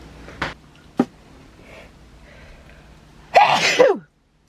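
A person sneezes in one loud, bursting fit near the end, preceded by a couple of short sniffs or small catches of breath against a quiet indoor background.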